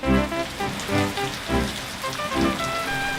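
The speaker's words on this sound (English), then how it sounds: "the driving rain became unbearable." Heavy driving rain falls steadily on surfaces, loud and close, as a dense continuous patter with gusty surges.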